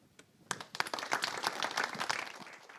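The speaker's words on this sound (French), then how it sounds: "C'est Olivier Morin avec vos applaudissements" Audience at a French regional election debate breaking into applause, scattered claps at first then a steady, moderately distant round of clapping from a crowd.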